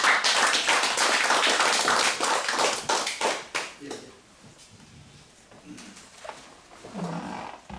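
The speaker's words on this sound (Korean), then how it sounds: "박수로 맞이하겠습니다." Audience applause welcoming a lecturer at a proverb talk for a Daegu cultural heritage society: dense, loud clapping for about three and a half seconds that thins out and fades into quiet room noise with a few faint sounds.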